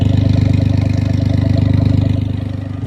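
Exhaust of a 1999 turbo Suzuki Carry kei truck idling, a loud, steady, close-up engine burble with an even pulsing rhythm, running alone and fading slightly toward the end.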